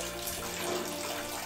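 Wort flows steadily out of a home-brewing mash tun during sparging, a close, continuous watery rush and trickle like a running tap, with no voices.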